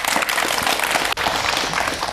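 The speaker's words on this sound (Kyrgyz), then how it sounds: "Кол чаап койгула" An audience at a Kyrgyz TV talent show claps steadily, with dense, continuous applause. It fills the moment with only a split-second dip near the middle.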